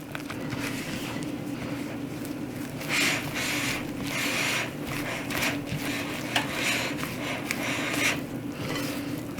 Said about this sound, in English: I'm going to switch to a spatula. Scraping down the bowl as you go.